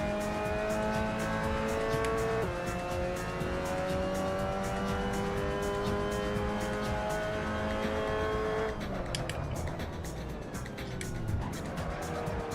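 An MX5 Cup race car on the Silverstone circuit in a VR racing game holds a loud, steady engine note, then drops sharply through downshifts as revs fall, with tire noise underneath.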